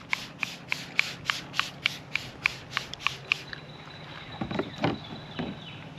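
Meguiar's Ultimate Quick Wax is sprayed from a trigger bottle onto car paint, about a dozen quick, evenly spaced hissing spritzes, close and crisp, followed by a few seconds of softer handling noise.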